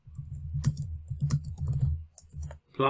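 Keys clatter on a computer keyboard as a keyword is entered into a search tool, with a steady run of quick close taps and a short burst of higher clicks near the end.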